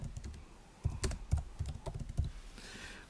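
Typing on a computer keyboard while drafting in ArchiCAD, a quick run of light, close clicks in an uneven rhythm, with a softer rustle near the end.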